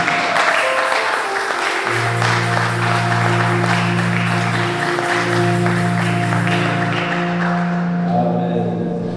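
Church congregation applauding and cheering loudly for the Lord, dense sustained clapping from a large crowd with sustained organ-like tones underneath, continuing for several seconds before easing off.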